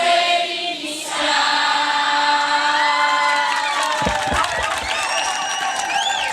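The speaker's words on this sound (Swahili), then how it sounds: "Asante sana kwa makofi." A school graduation crowd cheers and whoops at a steady, fairly loud level, with scattered shouts and children's voices rising above it and some talk mixed in.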